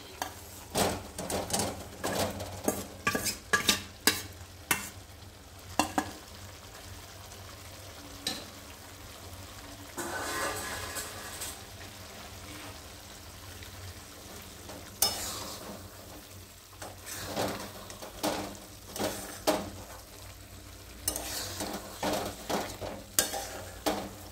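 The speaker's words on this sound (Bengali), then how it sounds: "ভেজে রাখা আলুগুলো আমি দিয়ে দিচ্ছি।" Fried potatoes tipped into a pan of cooked-down spice masala and stirred, with repeated sharp scrapes and clacks of a spatula against the pan over a continuous sizzle.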